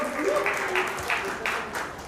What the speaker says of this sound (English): A very big round of applause for this diva, for this beauty queen.